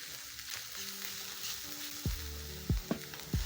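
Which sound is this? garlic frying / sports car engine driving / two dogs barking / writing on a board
garlic frying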